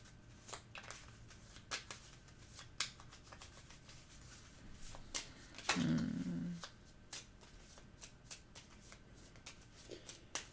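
Pandemic Legacy cards are shuffled by hand at a table, a series of quiet, crisp flicks and riffles spread over several seconds, with one louder burst of shuffling midway.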